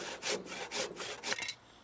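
A wooden joist for a catio roof frame being cut with a handsaw, several rhythmic rasping strokes close by, each stroke a loud broadband burst, the last few shorter and quicker.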